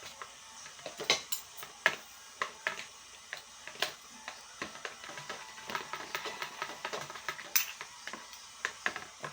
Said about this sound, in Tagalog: Ito guys, haluin na natin ngayon